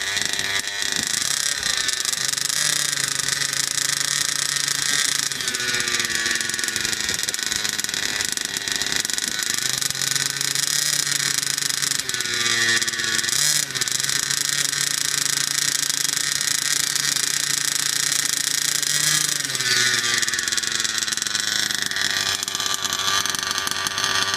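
Fifth-scale gas RC motor running during break-in, a loud, steady buzzing engine drone held close for the whole stretch, with slight shifts in pitch as the throttle changes and no voices.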